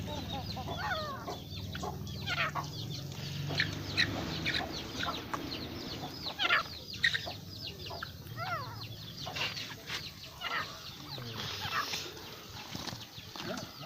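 A young rooster clucks and calls beside a partridge kept in a cage for fight training, giving repeated short, close calls over a low background hum, with occasional wing flutters.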